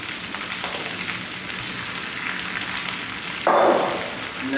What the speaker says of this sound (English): I'm gonna go ahead and just throw in my spinach.